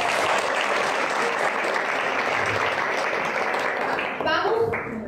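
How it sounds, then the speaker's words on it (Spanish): Dense audience applause fills the room at a high-potential interview session, steady and loud for about four seconds before tapering off as a voice begins to speak near the end. "Regalémonos un aplauso porque eso es importante"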